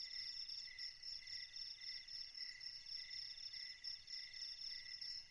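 Crickets chirp in an animated horror story scene, a faint, continuous high trilling pulsing in a steady rhythm over a quiet low background, with no voices.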